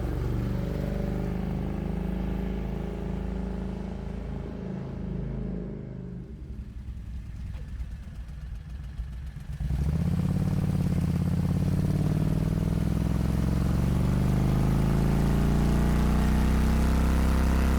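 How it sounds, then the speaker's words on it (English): A small Renault car with a 670 cc Predator lawnmower engine drones steadily, dropping lower for a few seconds before revving back up loud and buzzy as it drives along, no talking. "we have a lawnmower engine propelling us, this car is actually pretty quick"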